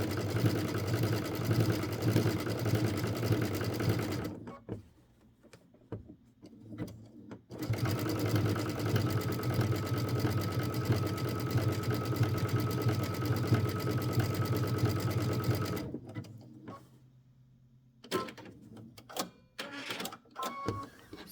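A sewing machine stitches a fabric bowl, running in loud, steady buzzing bursts up close, with two pauses of near silence and some short stop-start stitching at the end.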